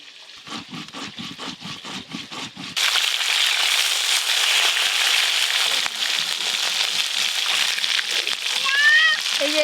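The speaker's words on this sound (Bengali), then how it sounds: "এই যে এইরকম করে মাছগুলো ভেজে নিয়েছি হালকা করে।" Fish fry in hot oil with a dense, continuous sizzle and crackle that sets in abruptly, preceded by someone talking, with light clinks near the end.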